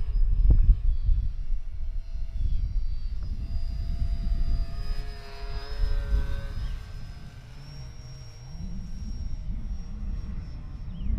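A Dancing Wings Tiger Moth RC plane, an 800mm-wingspan balsa model, flies past with a thin motor-and-propeller whine over wind rumble, its pitch rising and dipping as it passes; no speech.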